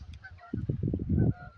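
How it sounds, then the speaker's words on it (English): Geese honk and chatter while flying over a river near Studley church, a run of rapid nasal calls overlapping at moderate distance, loud for a moment, then fading. "I've got some noisy geese coming over, chattering to each other."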